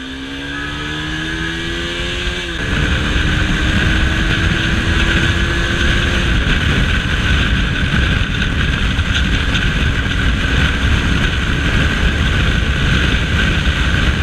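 A Bajaj Pulsar AS200 motorcycle rides down a highway, its engine note climbing through a gear before settling into a steady, loud roar mixed with wind rush for the whole stretch, with no speech.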